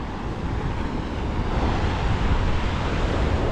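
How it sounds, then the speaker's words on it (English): Large ocean waves surge and break near a rocky headland pool, a steady loud roar of surf with wind noise throughout, no talk. "the waves are really big"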